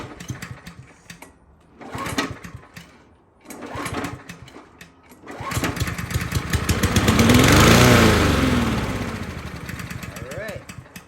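A neglected 2003 Husky small engine with a gummed-up carburetor sputters through several pull attempts, then catches and runs rough and uneven, its revs swelling and sagging up close.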